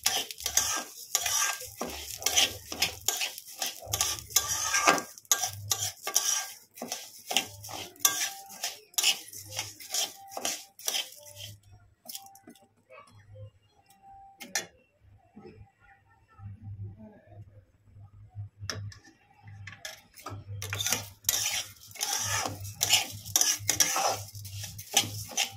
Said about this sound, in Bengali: তাকে ভালো করে ভেজে নেব ঘি দিয়ে।